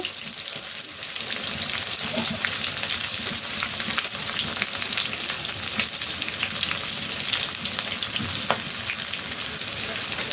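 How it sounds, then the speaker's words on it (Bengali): Chopped onions, two large ones, fry in a pan while they are stirred, giving a steady, close, broadband sizzle with occasional scraping clicks throughout and no talking. "পেঁয়াজটাকে ভালোভাবে নাড়াচাড়া করে নেব যতক্ষণ পর্যন্ত পেঁয়াজটা লাল লাল হয়ে ভাজা ভাজা না হচ্ছে"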